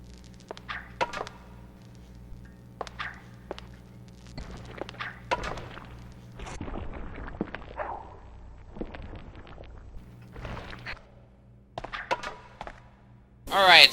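A wooden stick swung as a melee weapon in Resident Evil Outbreak lands a series of dull, scattered thunks and thuds over a low game background hum, ending with a brighter crash.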